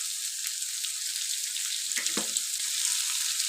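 Urad dal and other lentils sizzling in hot oil, a bright steady hiss with small crackles and one brief splatter, close and constant.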